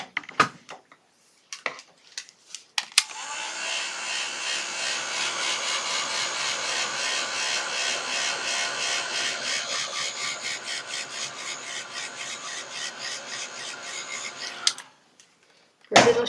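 A hair dryer drying acrylic paint on a painting, running loudly and steadily for about twelve seconds with a continuous airy whir, preceded and followed by a few brief handling clicks.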